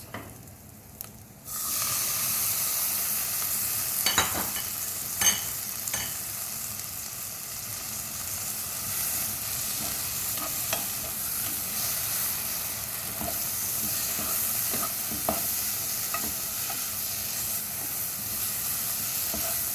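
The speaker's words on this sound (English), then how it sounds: "Since the masala has been roasted really well, we are now going to add the tomatoes" Tomatoes hit hot roasted masala for a mushroom curry, setting off a loud steady sizzle and hiss that runs throughout, with scattered spoon scrapes and stirring clicks over the constant frying noise.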